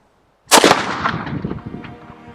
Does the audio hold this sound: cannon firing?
yes